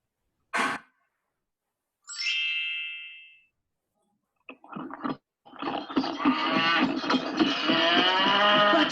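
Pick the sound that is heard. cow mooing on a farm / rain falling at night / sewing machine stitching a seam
cow mooing on a farm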